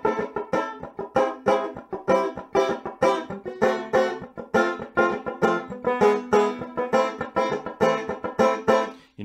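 Rapid, bright plucked string notes roll along in a steady, even picking pattern, loud and close, with no voices.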